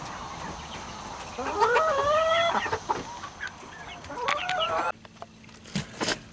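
Backyard chickens being fed greens cluck and call continuously at close range, with a drawn-out warbling call in the middle and short clucks, scuffles and pecking sounds around it.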